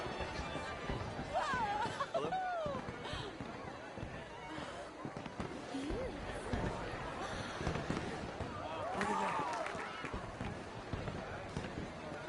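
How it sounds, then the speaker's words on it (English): Fireworks pop and crackle in scattered bursts at a distance, fairly faint, with people chattering and calling out over them throughout. "Let me enjoy the fireworks."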